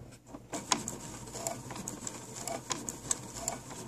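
A sewing machine stitches a dress hem in a quiet run of light, rapid needle taps, close and fairly soft, with small clicks and patters throughout.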